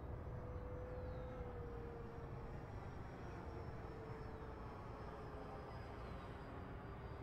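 An RC model L-39 jet with a 105 mm fan rolls down a runway for takeoff, giving a steady, faint whining roar with a thin sustained tone over constant broadband rush. No voice is heard.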